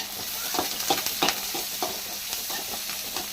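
Onions and curry leaves fry in a pan with mustard and cumin seeds, producing a moderate, close sizzle with scattered stirring clicks and scrapes.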